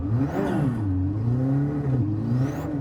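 Car engine in Gran Turismo 7 held on throttle through a drift transition, a loud steady droning rev that wavers up and down in pitch with faint tire whine overhead.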